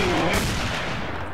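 A single heavy shotgun blast in Stalker: Call of Pripyat, loud and close at the start, then a rumbling echo that trails off through the Agroprom Underground tunnels.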